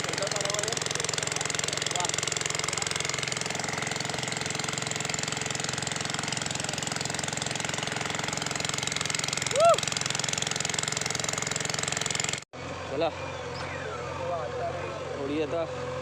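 A small water pump engine drones steadily for a long stretch while pumping out a well, then cuts off abruptly, leaving quieter background with faint voices.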